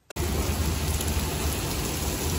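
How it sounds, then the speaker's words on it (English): Steady rain hissing down outdoors on a trip to a football stadium in Gothenburg, a loud, even wash of noise that begins abruptly and continues without a break. "Okay, the rain has eased a bit"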